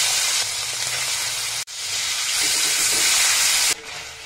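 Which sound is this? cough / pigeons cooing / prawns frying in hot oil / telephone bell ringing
prawns frying in hot oil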